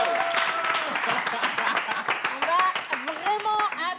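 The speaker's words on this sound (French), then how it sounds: "Applaudissez pour vous-même." Applause and clapping from a comedy show audience on Christmas Eve, dense at first, then fading as a voice begins to talk over the remaining claps.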